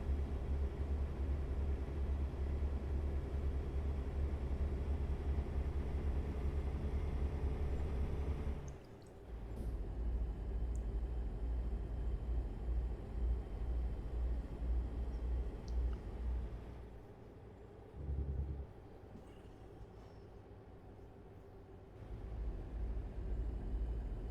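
A stock Peterbilt 389 engine drones in American Truck Simulator, a steady low rumble cruising continuously, with brief dips in level around the middle as the load changes, then resuming its even hum.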